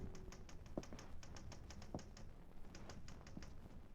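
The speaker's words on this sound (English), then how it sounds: "One night, Laurie was typing a story in her room" A typewriter sound effect from a 1945 radio drama, with rapid, irregular key taps heard close and fairly faint, plus occasional heavier clacks from the carriage.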